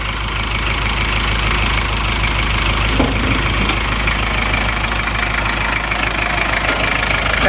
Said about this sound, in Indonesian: Suara mesinnya teman-teman.